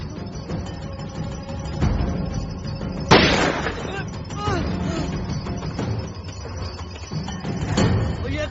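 Gunfire during a Hindi movie action scene, with a sharp loud burst near the middle among scattered pops and booms over a dense, noisy background mix, with voices speaking through it.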